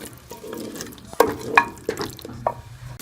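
Saag greens with spices being fried and stirred in a pan, a low continuous sizzle with several spoon scrapes and clanks against the pot, close and moderately loud.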